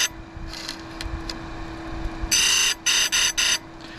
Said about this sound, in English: So a light initial pass, I'd say minimum of 2, regardless of what type of chain grinder you have.